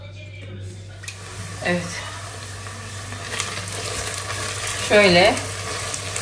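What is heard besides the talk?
hot water poured into a pan, sizzling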